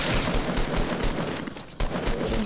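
Dense gunfire in Fortnite Battle Royale crackles with rapid repeated shots and a sharp crack near the end, loud and continuous throughout.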